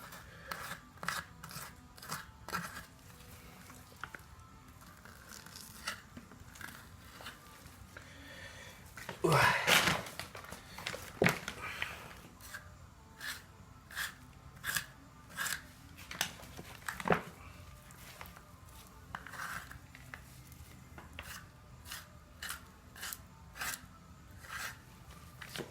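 Snipping and slicing through beaver hide near the tail comes as a series of short, sharp, crisp cuts at an irregular rhythm, close up, with a louder rasping burst partway through.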